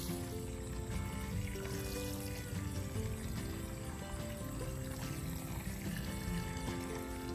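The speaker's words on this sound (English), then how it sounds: "That's pulling a 1/4 horsepower pump, sump pump," A quarter-horsepower sump pump draws water out of a lake, a steady continuous watery rush with a constant mechanical drone running unbroken from start to finish.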